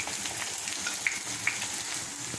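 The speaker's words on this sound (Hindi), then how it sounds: "इसी तरह ही हम फ्राई कर लेंगे" Potato chapli kababs fry in oil, giving a soft continuous sizzle with a couple of faint crackling pops, with no speech.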